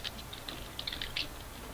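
Typing on a computer keyboard: a quick run of light key clicks, close and faint, with uneven spacing and no talk.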